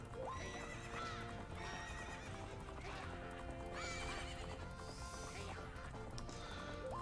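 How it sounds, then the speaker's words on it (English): Horses gallop and neigh during a race in the video game Majora's Mask, an adult horse against a young one, with steady clip-clop hoofbeats and repeated whinnies over a continuous game music bed. "Adult horse is racing against a baby horse, it's not fair."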